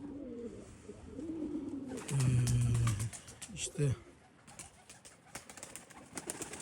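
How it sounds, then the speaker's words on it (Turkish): Pigeons coo in low, repeated rolling calls close by, mixed with someone speaking briefly and rustling movement. "bence bu kuşlar güzel kuşlar"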